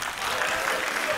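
Brief, steady applause from the audience at a youth human rights debate final in Guinea, a dense wash of clapping lasting just over a second.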